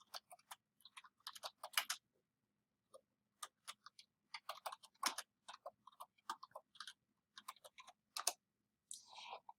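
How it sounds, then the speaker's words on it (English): Crisp, close keystrokes in irregular runs and short pauses, quiet clicks on a computer keyboard in an otherwise silent room. "So I'm going to type that in here."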